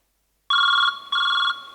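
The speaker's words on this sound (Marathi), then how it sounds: "माझ्या नवऱ्याचा फोन येतोय." A telephone rings in an office during a Marathi comedy sketch, two clear electronic ring bursts in a steady rhythm, close and loud with no talk over them.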